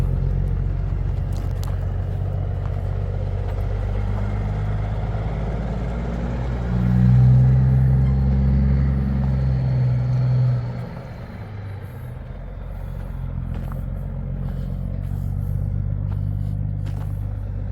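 A diesel truck engine idles smoothly and steadily close by, a deep continuous rumble that swells briefly louder midway before settling back, with no talk.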